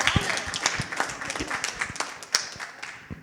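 A small group claps briefly, with scattered, uneven hand claps close by that trail off after a few seconds.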